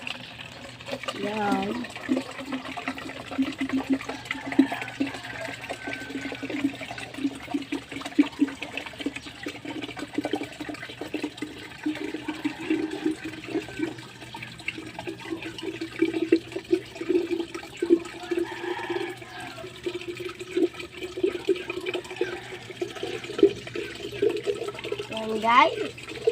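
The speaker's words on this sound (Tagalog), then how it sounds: "Lalagyan na natin ng water." Water running steadily into a container for a homemade preparation, a continuous gurgling fill that persists throughout, with a person talking over it intermittently.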